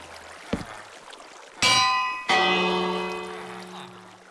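Two sharp metallic strikes of a bell in the Minecraft video game, each with a bright ringing tone that lingers and slowly fades, the second decaying longest, with no talking over them.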